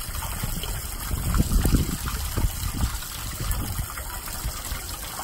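Storm water flowing steadily from an outfall where a sample is being taken, a continuous near gushing and trickling splash with slight surges, no voices.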